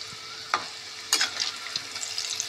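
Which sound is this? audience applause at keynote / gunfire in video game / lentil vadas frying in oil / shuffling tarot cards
lentil vadas frying in oil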